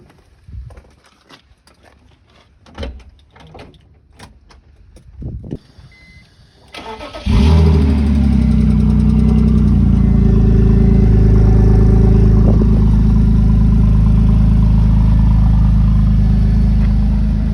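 A car with a deleted muffler is started: after a few quiet clicks and rustles, the engine cranks and catches, then settles into a loud, steady, rumbling idle that runs to the end.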